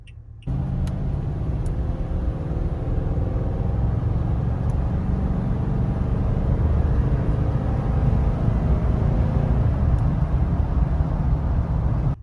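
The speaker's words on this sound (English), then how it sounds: "the V8 has a nice sound paired with the stock exhaust system" A deep V8 engine in a 2021 Toyota Tundra pickup rumbles steadily with a throaty stock exhaust note, sustained and fairly loud for the whole stretch, as if heard from inside the cab.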